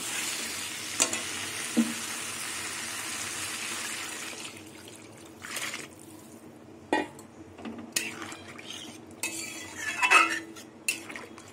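Water goes into a pan of katla fish curry with taro and potato, a loud sizzling hiss at first that settles down, followed by scattered spoon scrapes and clinks against the pan, close by with no talk.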